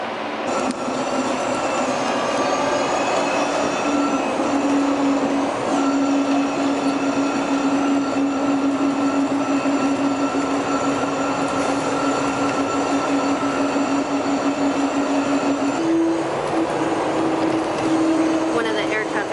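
An airport people-mover train at DFW airport pulls away from the platform, its steady rumble and rising electric whine holding loud and close throughout, with a tonal hum shifting near the end.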